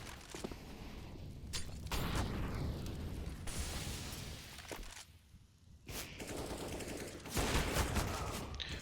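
Gunfire during a Counter-Strike match on the Inferno map, scattered shots and bursts rattling at moderate distance amid dense game noise, with faint overlapping activity and no clear voices.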